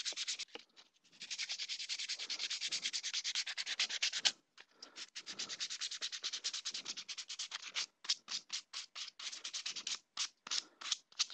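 Sandpaper rubbed along the edges of a PVC/Sintra armor plate, a close, steady raspy scraping in repeated strokes, continuous at first and then in short quick bursts, with no talking.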